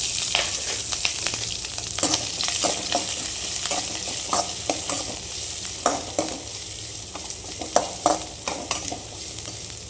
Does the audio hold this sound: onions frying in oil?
yes